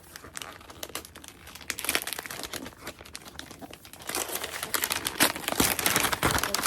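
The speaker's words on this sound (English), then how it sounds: "So I get the pretty birthday wrapping paper again." Thick, pretty birthday wrapping paper crinkles and tears as it is pulled off a floppy paperback book, in bursts of rustling and ripping that grow louder and busier toward the end.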